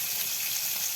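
Spice paste hisses as it fries in a pan, a steady close sizzle with no breaks.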